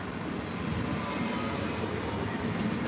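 Steady, loud rumble of a train rolling into a railway station, with a continuous high metallic whine over the low roar and no voices.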